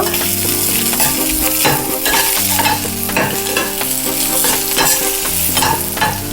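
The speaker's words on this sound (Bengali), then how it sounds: "রসুন, গোটা কাঁচা লঙ্কা আর আদা। এবারে একটু নাড়াচাড়া করে নেব।" Chopped onion, garlic, whole green chillies and ginger fry loudly in a pan, a dense close sizzle punctuated by repeated scraping strokes of a spatula.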